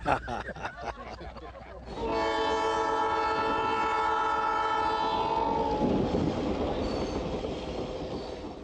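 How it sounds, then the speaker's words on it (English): A train rumbles along while its horn blares in a long, steady tone for several seconds, then fades back into rolling rail noise. "one of the highlights of the reunion was an afternoon train ride"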